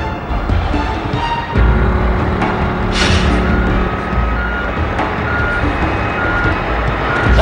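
A vehicle, likely a truck, reverses with its backup alarm beeping steadily and clearly over a loud, continuous engine rumble, with no talk.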